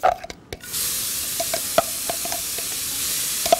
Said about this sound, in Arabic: حط البصل الاول عشان ما تأكسدش من الزبدة